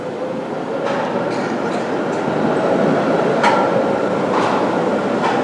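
A Brussels tram rolls past with a steady rumbling roar, faint metallic squeals and clicks rising over the continuous rail noise, fairly close and loud.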